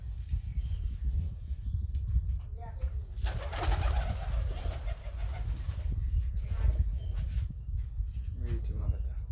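Pigeons in a home loft coo softly in low, rolling calls, close by, over a steady background rumble, while someone talks over them.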